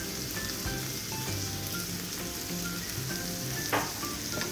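Zucchini sizzles steadily in a hot pan with sesame oil and cumin, a close, dense crackling fry with a brief stirring scrape near the end.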